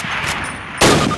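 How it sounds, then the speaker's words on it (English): Two rifle shots from a Springfield rifle in the Call of Duty video game: a softer crack early, then a loud sharp report near the end, close and alone. "Move to the fence and fire 2 rounds at your target."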